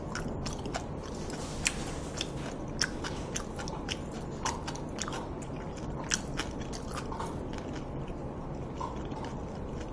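Someone eating jokbal pig trotters and makguksu buckwheat noodles, with close, steady chewing, soft crunches and wet mouth sounds repeating throughout, a few sharper clicks standing out, and no talking.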